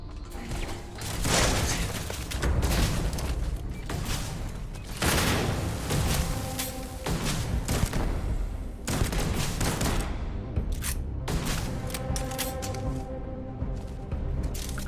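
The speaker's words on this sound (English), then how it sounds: "The turret guns." Rapid, continuous bursts of turret gunfire in the space game Starfield, loud and close, with mechanical clatter running through long volleys broken by brief pauses.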